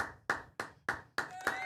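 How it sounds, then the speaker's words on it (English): Hands clap in five sharp, evenly spaced claps that echo a little, fairly faint and with no voices over them, applause for football player Fernando Mendoza. "Let's clap it up for Fernando Mendoza here,"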